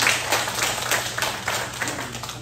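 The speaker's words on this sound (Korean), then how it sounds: "단비 주신 하나님께 감사의 박수 한번 하겠습니다" A church congregation breaks into applause in thanks for rain after a long drought, a dense, steady patter of many hands clapping together indoors at moderate loudness.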